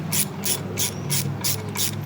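A ratchet tightens 3/8 by 3.5 inch galvanized bolts into a raspberry trellis, giving six quick, even clicking bursts about a third of a second apart, close and clear with no talking.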